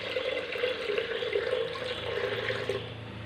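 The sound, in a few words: water being poured into pot for cooking dal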